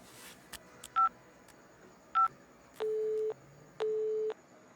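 A phone is dialed and the call fails to connect: two short keypad tones are followed by two long, steady tones with gaps between them, heard fairly faintly over a quiet room background.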